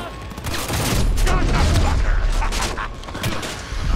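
Gunfire in the video game Cyberpunk 2077, loud overlapping bursts and heavy impacts in a busy firefight, mixed with game sounds and some speech underneath.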